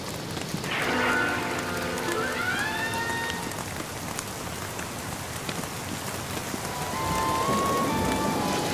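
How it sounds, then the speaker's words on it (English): Rain falls steadily on a rainy evening, a hissing patter that continues throughout, with gliding tonal sounds layered over it near the start and again near the end. "she decides to go out into the rainy evening"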